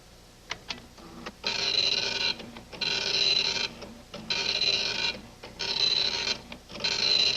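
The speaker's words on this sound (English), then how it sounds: "And now press F2 to start printing Christmas Carol." A 1983 computer printer prints a document in repeated bursts of loud mechanical rasping with a high whine, each pass lasting about a second, separated by short clicks and pauses.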